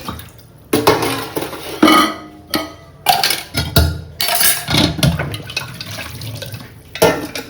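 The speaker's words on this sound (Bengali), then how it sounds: "এখন আমি বাসনগুলো মাজি" Hand-washing dishes under a running tap, with water splashing and pots and plates clattering in irregular close bursts over several seconds, loud and without talk.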